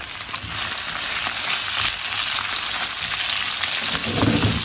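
Sausage sizzling in a hot pan, a steady broadband frying hiss that holds evenly throughout with a slight swell at the end, close and continuous with no talking.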